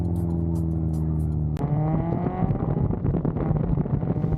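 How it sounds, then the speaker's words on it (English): A Mazda Miata drift car holds a steady engine drone, then jolts sharply as the clutch is kicked, breaking into surging revs and a downshift with rising and falling engine pitch and tire noise. "Clutch kick to the left, clutch kick to the right, a downshift with the full beans, and it carries it all the way through"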